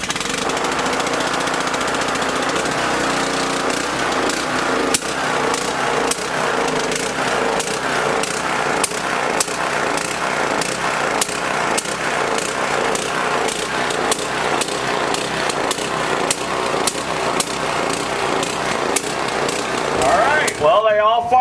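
Several lawn mower engines run together in a yard, a loud, steady, close drone with rapid rhythmic pulsing throughout, and a voice speaks briefly over it.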